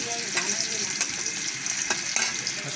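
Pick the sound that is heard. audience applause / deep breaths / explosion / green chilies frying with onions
green chilies frying with onions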